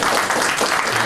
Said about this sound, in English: don't be too quick to clap